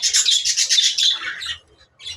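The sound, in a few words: caged pet birds (parrots, lovebirds) chirping and squawking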